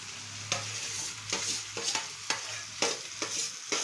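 Boiled mashed potatoes are stirred through a sizzling pan of tempered spices, with a steady fry hiss under repeated scraping strokes of a spoon, close up with no voices.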